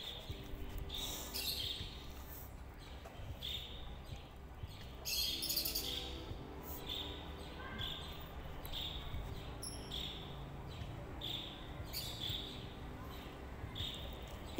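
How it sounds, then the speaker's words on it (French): Birds chirping outdoors, bright short tweets repeating in irregular bursts over a faint background hum, moderately distant and with no talking. "Oh, le cri des oiseaux."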